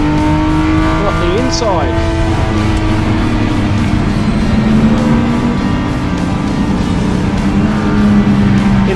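A left-hand-drive Triumph TR6 racing in the Triumph Challenge circuit race, engine droning loud and steady with a brief tire squeal, as a commentator talks over it.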